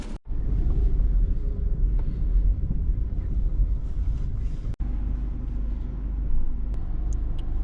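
A BMW bought at auction with a seized engine drives into an inspection station, giving a steady close engine rumble with road and wind noise that runs through the whole stretch, broken by a couple of brief dropouts.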